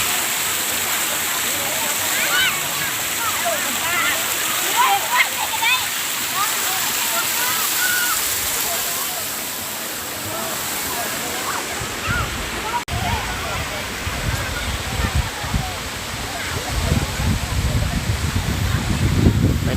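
The Tat Hat Sai Khao waterfall gives off a steady, loud rush of falling water, with heavier low splashing and sloshing toward the end, close by.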